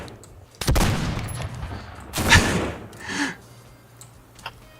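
Mortar shots fired in the game Sector Wars, a few sharp booming reports at irregular intervals, each with a short crackling tail, fairly loud against quiet background ambience.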